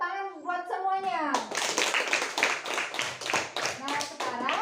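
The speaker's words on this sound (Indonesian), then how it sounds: "Tepuk tangan buat semuanya." Children clap in a classroom, a dense burst of many small hands that starts after a short spoken phrase and runs steadily to the end, with a few kids' voices mixed in.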